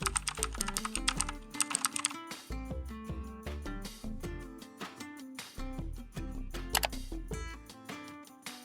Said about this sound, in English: Type your preferred email address.